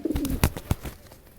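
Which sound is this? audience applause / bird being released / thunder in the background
bird being released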